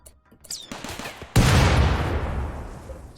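A burst of RimWorld gunfire: a few faint shots, then a sudden loud fusillade that rings out and decays, close and alone.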